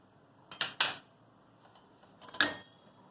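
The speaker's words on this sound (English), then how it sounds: "1 teaspoon of cumin seed goes in." Cumin seeds hit a pan of melted butter for dal, giving a few sharp clinks and rattles: two close together near the start and another a moment later.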